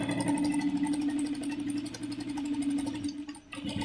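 A sewing machine runs steadily while stitching a seam on a homemade frock, a continuous close mechanical whir with a strong, even hum that barely pauses throughout.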